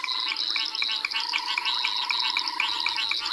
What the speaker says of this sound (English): There's a very high-pitched sound. That's that banded rubber frog I spoke about earlier.